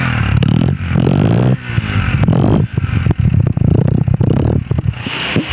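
The engine of a used Honda 70 motorcycle sputters and catches, then revs in uneven bursts close up, with clattering mechanical noise between the pulses.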